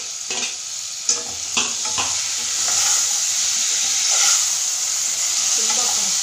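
Chopped tomato frying in a pan for drumstick sambar, a steady loud sizzle and hiss with a few scraping stirs near the start, close up and without talk.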